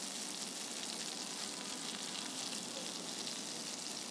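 Onions fry in about half a cup of oil, producing an even, dense sizzling hiss heard up close and alone, faint overall.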